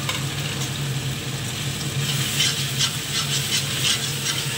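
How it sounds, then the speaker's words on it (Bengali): Close, steady sizzling and crackling of lentil dumplings frying in hot oil, with occasional sharper pops and a low background hum. "এবার তেল ফুটে গেছে, এবার ডালের বড়িগুলো দিয়ে দিলাম"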